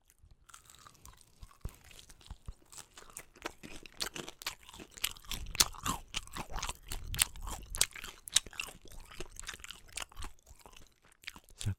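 Close, crunchy biting and chewing of fried chicken with a soft rather than crisp coating, steady irregular crunches and smacks running throughout with no talking.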